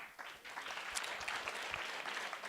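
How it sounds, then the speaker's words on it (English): A hackathon finals audience claps steadily throughout, a dense, even round of applause with no voices over it. "Round of applause for Sapiens"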